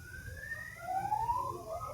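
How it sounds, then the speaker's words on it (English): A wailing siren rises and falls in pitch, fairly faint and distant, over a low steady background rumble. "so many sirens are ringing."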